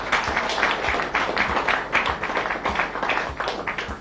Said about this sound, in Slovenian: Moram reči, da je verjetno ta aplavz na zadnje bil namenjen njemu